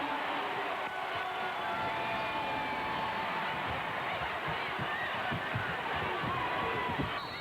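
Big arena crowd of about 20,000 at a women's college basketball Final Four game between Rutgers and Tennessee, a steady dense roar of cheering that holds loud throughout, with a commentator's voice over it.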